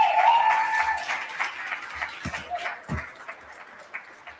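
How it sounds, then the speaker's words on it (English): Applause from a conference audience, a dense patter of clapping that is loudest at the start and thins out into scattered claps. "another round of applause for Ron Laauo"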